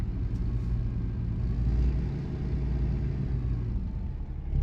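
A heavy truck engine braking with a Jake brake in American Truck Simulator, a loud continuous low rumbling drone with steady engine harmonics, no voices.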